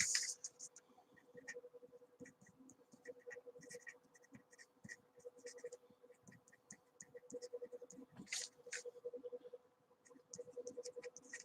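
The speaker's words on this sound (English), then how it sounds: "I'm gonna write that down right now." A pen scratches on paper in short, quiet bursts of writing, separated by brief pauses, with a faint hum in the background.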